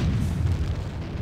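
Cannon fire in the strategy game Empire Earth: a single deep, rumbling boom that rolls on as a low, steady roar for about a second.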